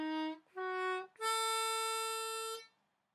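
Blues harmonica plays a Chicago-style walking bass line climbing up the five chord: three clear tones rising step by step, the last held long, solo and close with no talk.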